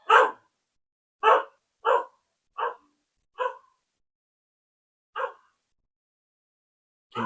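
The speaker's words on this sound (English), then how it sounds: "That's Doug, my dog." A dog barks loudly and close by in a series of six sharp, separate barks, spaced unevenly with short silences between them, and a seventh bark starts just as the sound ends.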